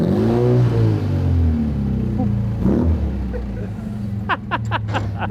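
A 1950s Austin Healey 100M sports car, newly back on the road after six years, reverses with a low, burbling engine note that rises and falls near at hand, while people talk over it and a few sharp clicks come at the end.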